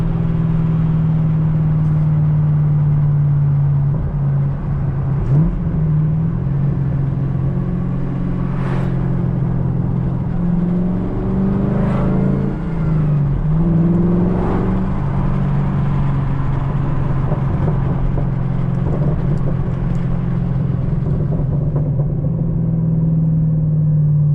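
A car engine rumbles steadily with a deep low drone, broken by several sharp exhaust pops and crackles as it revs, loud and close.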